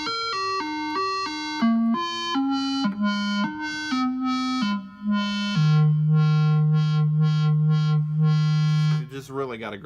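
A Roland SH-1000 synthesizer plays a stepping monophonic melody of short tones, then holds a long low note with a rhythmic pulsing filter sweep, ending in a brief burst, with no talk.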